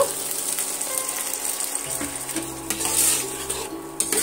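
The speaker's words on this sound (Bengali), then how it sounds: "ডিমের সঙ্গে এইভাবে কষিয়ে নেব সমস্ত মশলা" Eggs and spices sautéing in a pan for egg posto, with a soft sizzle under intermittent stirring scrapes and light clinks of utensils against the pan.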